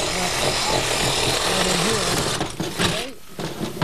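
A loud, continuous power-tool whine grinds through a car's catalytic converter, cutting it open, then falters and cuts out near the end. Someone speaks faintly underneath.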